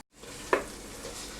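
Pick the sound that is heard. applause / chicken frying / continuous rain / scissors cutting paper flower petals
chicken frying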